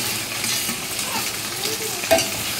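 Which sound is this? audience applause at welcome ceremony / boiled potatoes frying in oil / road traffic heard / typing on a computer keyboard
boiled potatoes frying in oil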